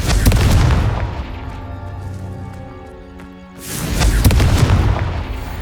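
A Confringo fire spell bursts in Hogwarts Legacy, loud booming blasts with a long rumbling tail that fades, then a second heavy explosion swells back up near the end.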